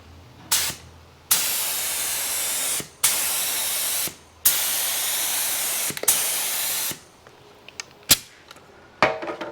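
Spray paint hisses onto a part from a 1973 Suzuki TC125 motorcycle in about five long, loud, close bursts, then several short puffs near the end.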